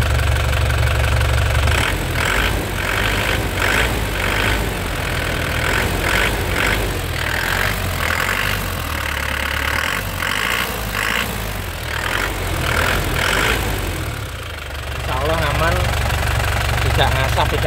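A black 2012 Grand Touring car engine is revved repeatedly, its loud running note rising and falling in a series of throttle blips over steady idle, with a person talking over the engine.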